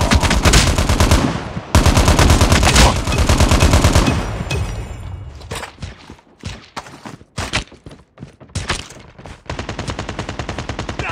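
Call of Duty: Mobile gunfire rattles in rapid automatic bursts during a team deathmatch, loud and close at first, then breaking into choppier, separated shots and short volleys before one more sustained burst.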